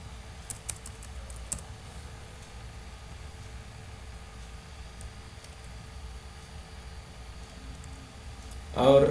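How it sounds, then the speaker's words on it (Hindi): Quiet, scattered clicks of computer keys being typed while entering Python code, soft and close against faint background hiss, ending with a brief louder burst. "उसी तरह से अब हम यहाँ पर टाइप कर रहे हैं प्रिंट"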